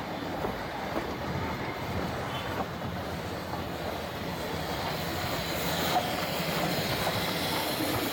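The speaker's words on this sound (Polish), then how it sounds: "Pociąg z krainy Sherpów, krainy górków." A mountain train in northern India rumbles steadily along the tracks with a continuous low roar and faint rattling, its sound swelling slightly toward the end.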